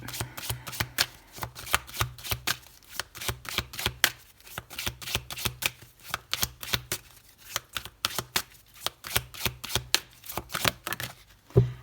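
Tarot cards are shuffled in rapid, repeated riffling bursts with short pauses between, crisp and close, and no speech over them.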